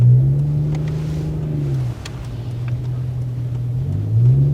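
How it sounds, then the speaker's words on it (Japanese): Toyota Crown Athlete (JZS171) with a 1JZ inline-six revving in second gear manual mode, a loud, smooth engine drone that climbs in pitch, drops briefly at a shift, then rises again, heard from inside the car. "マニュアルモード2速、ちょっと引っ張ってみますか。 おお、やっぱ 1J だな。"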